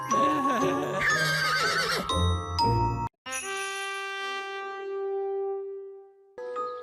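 A pink unicorn in the French-dubbed cartoon Ben and Holly's Little Kingdom gives a loud, shrill whinnying neigh, then bright magical chimes ring out and slowly fade, with a short tinkle at the end.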